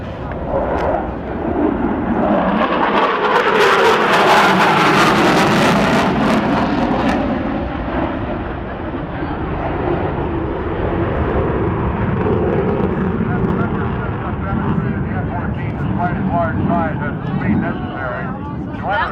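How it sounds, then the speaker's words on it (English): F-14 fighter jets flying a surprise attack demonstration at the NAS Oceana air show, a loud roaring jet pass swelling and fading under continuous announcer commentary over the public address. "this is the F-14 surprise attack."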